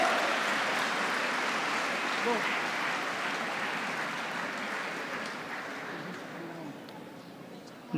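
Large audience at a university convocation applauding a first-rank graduate, a long, even wash of clapping that slowly fades over several seconds.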